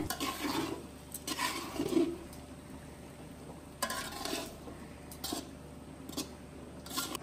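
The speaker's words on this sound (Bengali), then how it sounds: "মা সবকিছুর সাথে রাইসটাকে কিন্তু মিশিয়ে নিচ্ছে" Fried rice with vegetables and spices being mixed in a pan by a mother, a few scraping, clattering spatula strokes in short bursts over a low sizzle, close by, with no speech.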